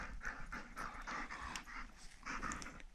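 Molly the dog pants quickly and rhythmically close by, a run of short breathy huffs with a faint whimper mixed in and no speech.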